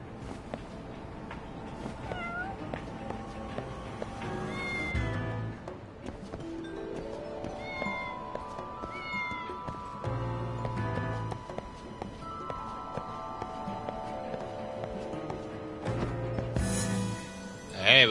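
Cats meow repeatedly in the video game Lost Judgment, several plaintive, drawn-out calls scattered over game music and ambient street sounds, moderately loud and fairly close.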